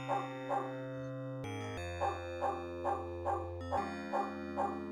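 Dog barking in the Call of Cthulhu: Shadow of the Comet video game, short rhythmic barks repeating steadily over looping game music with a sustained tonal backdrop.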